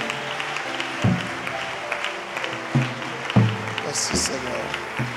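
A church congregation claps and cheers for Jesus in steady, spread-out applause that runs beneath a voice speaking French.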